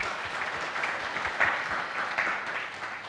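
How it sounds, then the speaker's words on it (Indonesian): Steady audience applause fills a hall during a Buddhist puja service at a vihara, a dense, continuous patter of many hands held at an even level throughout, with a couple of slightly louder claps standing out. "Tepuk tangan dulu untuk kita semua."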